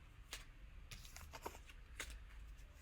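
Tarot cards being shuffled by hand, a string of crisp papery riffles and slaps in quick irregular bursts, close and alone.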